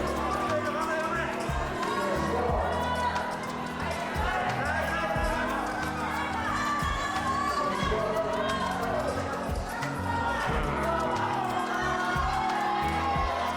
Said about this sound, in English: The American crowd roared him upwards.